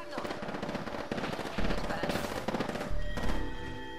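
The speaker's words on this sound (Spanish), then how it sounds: "Atención, me están disparando" Rapid automatic gunfire from Apex Legends: several quick bursts of crackling shots, some close and loud, with heavier impacts and tonal game effects layered in toward the end.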